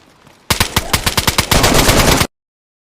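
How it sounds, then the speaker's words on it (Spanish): Rapid gunfire in the survival video game DayZ, a burst of loud close shots in quick succession followed by a dense sustained volley that cuts off abruptly. "I just heard, yeah, someone gets sniped."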